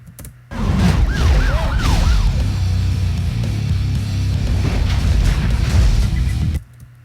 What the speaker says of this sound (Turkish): Gelen sesten tırstım. Evet işte polis arabası.